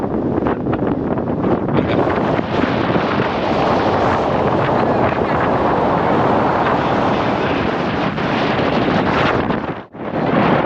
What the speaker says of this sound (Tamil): என்னம்மா காத்தடிக்குது பார்த்தீங்களா, செமையாக காத்தடிக்குது இந்த இடத்துல.